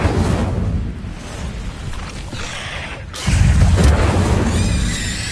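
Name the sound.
Incendio fire spell in Hogwarts Legacy video game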